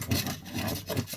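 Aluminum foil being cut into a small rectangle, with short raspy rubbing strokes repeating about four times in quick succession, close and fairly quiet.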